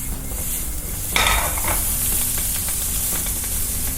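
Garlic sizzles and fries in butter in a pan, a steady close hiss with a sharper stirring scrape partway through and faint utensil clinks.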